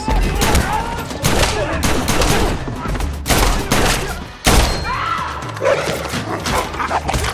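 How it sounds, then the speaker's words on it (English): Rapid gunfire from an action-film shootout crackles in repeated bursts, with a dog barking in the mix, loud and dense throughout. "let's just take a moment to appreciate John and Sophia's anti-stormtrooper headshot capabilities."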